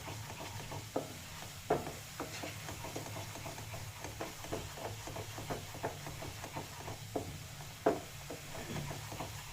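Paneer masala mixture with salt being stirred in a pan, a soft steady scraping with sparse louder knocks of the spoon against the pan over a low sizzle and faint background hum.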